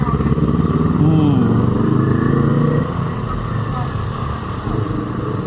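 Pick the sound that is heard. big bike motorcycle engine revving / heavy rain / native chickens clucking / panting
big bike motorcycle engine revving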